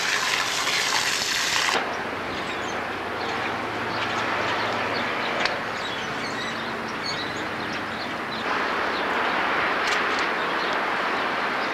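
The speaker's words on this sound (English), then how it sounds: "I just fill it up with water." Water rushing steadily into a wall drain as it is filled, a continuous gushing hiss that shifts in tone a few times, close and alone throughout.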